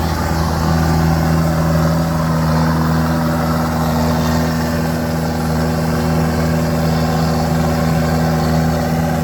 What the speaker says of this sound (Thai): ได้อัปเกรดท่อนะครับ เดี๋ยวมาฟังเสียงท่อกัน